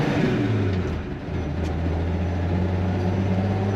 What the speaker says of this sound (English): Smooth running engine, straight 6.